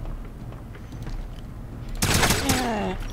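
Gunfire in the shooter game Wolfenstein: a quiet lead-in, then a sudden loud burst of sharp shots with ringing, descending tonal tails, close and dominant.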